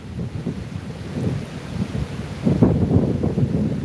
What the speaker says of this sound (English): this little walk next to Lake Ontario in the wind and the cold